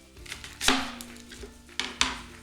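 A knife chops a quarter of an onion on a cutting board, a few distinct sharp thuds spaced irregularly, close up with faint kitchen background.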